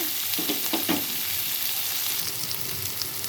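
Onions and green chillies frying in a pan, a steady close sizzle with a few quick stirring knocks and scrapes early on, then an even hiss with no voices.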